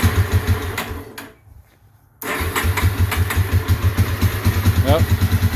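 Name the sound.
Yamaha Warrior 350 ATV engine starting and idling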